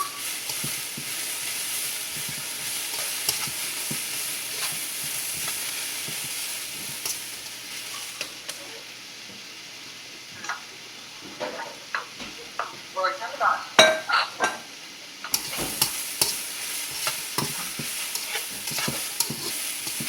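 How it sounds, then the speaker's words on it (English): Sliced mushrooms frying in a pan for a chicken stir-fry, with a steady sizzle and hiss under repeated scraping and stirring strokes that grow busier in the second half. "make sure you're constantly stirring your pan, guys"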